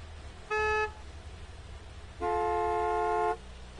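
Two car horn honks in the Gas Station Simulator game: a short, sharp toot and then a longer, held blast about a second later, both loud over a low idling rumble.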